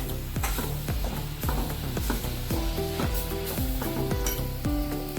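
A spoon scrapes rhythmically around a pan as beet juice is stirred into a cooking milk mixture for a sweet, with steady repeated strokes over a faint sizzle, close and clear.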